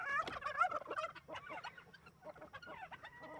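Tom turkeys gobble in rapid, rattling bursts close by, with several birds calling over one another in a farmyard flock, no talking.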